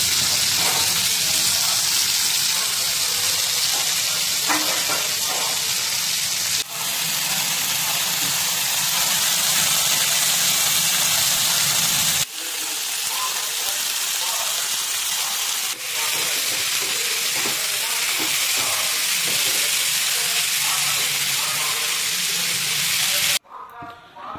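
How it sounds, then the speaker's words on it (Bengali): Prawns sizzle and hiss steadily in a hot pan, loud and close, a continuous bright frying crackle that runs almost without a break, with a few brief cuts and a voice faintly in the background. "চিংড়ি মাছগুলোকে এখানে ভেজে নেওয়া হচ্ছে"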